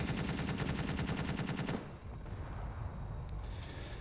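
A video game's automatic gun turret fires a rapid, steady burst of gunfire for under two seconds, then stops, leaving a dull rumbling background.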